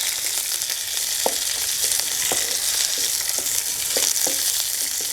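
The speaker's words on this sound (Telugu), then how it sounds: "ఇవన్నీ ఇట్లా మంచిగా వేపుకోవాలి పండ్లు అయిందాక" Garlic cloves frying in a pan, a steady close sizzle with scattered pops and occasional scraping stirs, continuous and fairly loud, with no voices.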